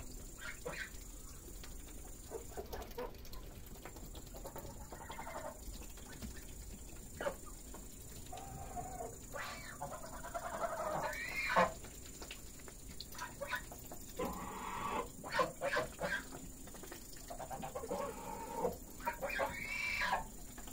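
Ducks at an evening feeding give scattered quacks and bird calls over a steady background hiss, with occasional busier bursts of activity and faint low voices now and then.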